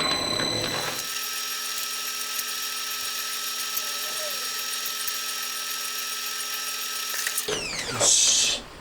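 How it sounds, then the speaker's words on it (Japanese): A drill boring a pilot hole for a reamer in metal stock, part of building a four-cylinder 124.4cc engine for a Honda Monkey, gives a steady, continuous whine for several seconds, then stops. "材料を切ったらリーマーの下穴を開けていきます。"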